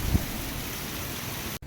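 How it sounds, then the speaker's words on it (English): Heavy rain pours down in a dense, steady roar of broadband hiss, continuous and close, with a brief dropout near the end. "it's raining cats and dogs, so let's go someplace else where it's a little bit less rainy"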